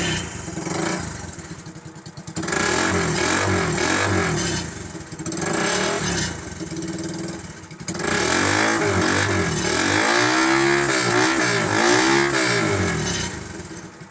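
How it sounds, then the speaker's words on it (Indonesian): A Thunder 125 motorcycle engine fitted in a Suzuki Carry with a homemade exhaust runs loudly up close through a raw, rattly exhaust, revving up and down several times with a throbbing idle between. "kita akan mencoba membunyikan mesin ini bagaimana suara knalpotnya"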